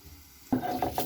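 Dried chillies and salt being ground for tomato bhorta, starting after a quiet moment with a sudden scrape, then several rough, rhythmic grinding strokes close by.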